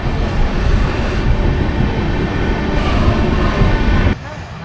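A passenger train pulls out of Durgapur station after a short stop, heard from on board as a loud, steady rumble and roar of wheels and carriages that drops off sharply near the end.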